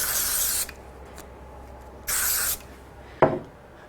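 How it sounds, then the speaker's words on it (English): Short bursts of hissing spray hit a piece of sky-blue die-cut craft card, two quick sprays followed by a light tap, close up and alone. "I'm going to give it a quick spray."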